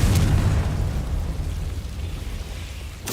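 The Confringo fire spell bursts in Hogwarts Legacy as a loud, rumbling explosion that rolls on for several seconds and slowly fades, then a fresh crack of impact hits at the very end.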